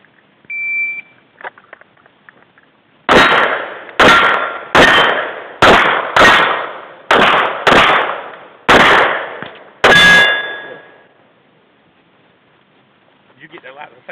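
Pistol shots striking a steel target ring out outdoors: eight sharp cracks in a steady series, each followed by a brief metallic ring, loud and close, with a faint beep before the string.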